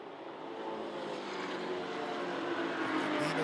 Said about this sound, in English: those BMWs do have some grunt down the straightaway, don't they?